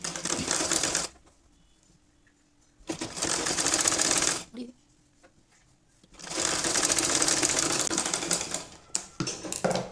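A sewing machine stitches a 6–12 month baby tikli hat in three close, rapid bursts, each a few seconds long, with near-silent pauses between runs.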